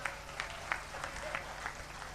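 Audience at a Hindi comedy poetry gathering (hasya kavi sammelan) clapping, a faint, distant, continuous patter of applause over a low background hum.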